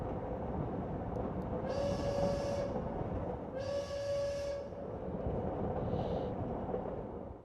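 Two long, clear tonal whistle blasts from a train in the game Heart of the Woods ring out over a low rumbling rail background. A fainter, shorter hiss follows near the end, with no talking.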